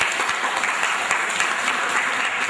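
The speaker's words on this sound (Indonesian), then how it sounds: "Tepuk tangan untuk kelompok 3." Students in a high school classroom applaud a group presentation, a dense and steady burst of close clapping filling the room throughout.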